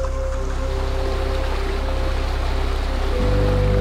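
A calm river flowing in Lenggong, Perak, once used as a rubbish dump, gives a steady, close rushing wash of water with a low continuous hum beneath it and no voices.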